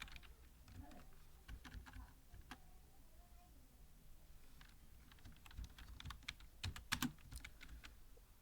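Quiet, close keystrokes tap out text on a computer keyboard in irregular bursts, growing a little busier and sharper toward the end, with no speech over them.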